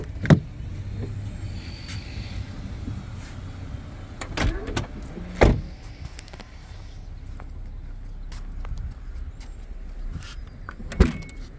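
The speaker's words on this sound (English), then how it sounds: "Power liftgate as well." The power liftgate of a 2024 Chrysler Pacifica Touring L minivan working, a low steady motor whir with a few sharp thuds and clunks as it moves and latches, close by, no talking.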